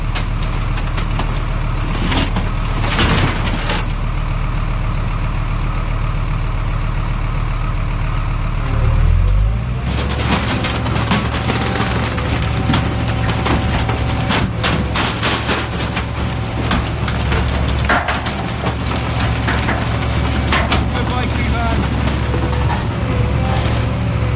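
A diesel vehicle crusher flattening a transit van, with loud engine drone throughout, a heavy surge partway as the crushing starts, then metallic cracks and crunching bursts over the continuing hydraulic hum.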